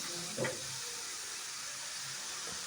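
Tomatoes and onions sautéing in a pan for a ridge gourd kuzhambu seasoned with dried red chillies and homemade curry powder, giving a soft, steady sizzle with one brief clink of a stirring spoon near the start.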